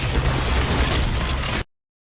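A loud explosion in the video game Black Mesa, a dense roaring blast that fills the moment and then cuts off abruptly into silence.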